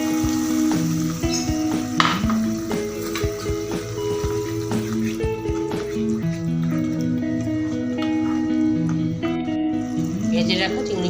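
A splash of water added to a sizzling pan while prawns are being cooked, with frying crackle and bubbling heard under steady talking and background music.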